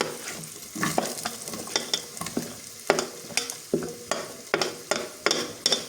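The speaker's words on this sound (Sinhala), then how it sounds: "ඒකේ දැන් අල ටික දානවා" Potatoes tossed into a pan of leftover mixed rice, stirred with repeated close scraping strokes over a steady frying sizzle, in an uneven rhythm with no talking.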